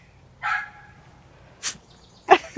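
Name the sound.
dog barking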